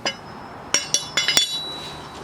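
Metal parts clink in a quick cluster of sharp, close taps as a clutch fork is pulled loose on a Honda during a radius rod bushing replacement, with a faint steady hum underneath.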